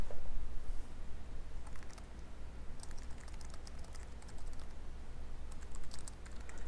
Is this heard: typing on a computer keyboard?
yes